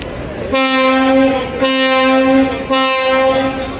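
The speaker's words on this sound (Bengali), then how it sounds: "আরাবতের হর্ন মাথা নষ্ট করা হর্ন খুবই লাউড" Passenger launch MV Parabat 18 sounds its loud horn on a river in Barishal, three long, blaring blasts with short gaps between them, very close and overpowering.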